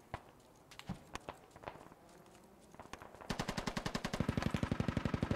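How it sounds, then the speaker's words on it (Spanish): Gunfire in the military shooter Squad: scattered single shots and short bursts at first, then a rapid, steady automatic burst growing louder and closer over the last two seconds, with no talk. "Esos tiros sí son para nosotros"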